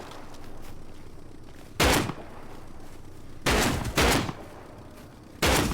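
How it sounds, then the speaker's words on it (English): Shotgun blasts in a one-on-one video game firefight, four loud, sharp broadband bursts spaced irregularly over steady background game noise. "Crazy shotgun fight here."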